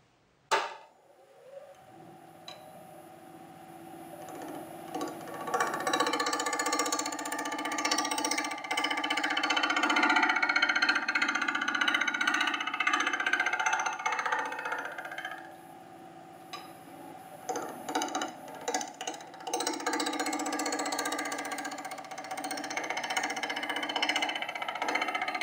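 A sharp gouge cuts wood on a lathe while a kuksa cup is turned, giving a steady scraping, hissing cut that swells loud through the middle and eases near the end, with a spinning hum beneath it.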